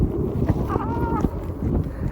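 Strong wind buffeting the microphone on a sunny day in Finland, a constant low roaring rumble with gusty swells throughout.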